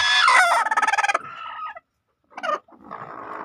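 A native hen on a poultry farm sits on her eggs and gives loud, close clucks and drawn-out agitated cackles, broken by a short silence before more clucking.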